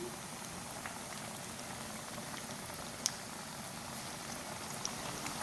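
Potato pakoras deep frying in hot oil over a medium flame, a steady close bubbling crackle running throughout with a couple of sharp pops.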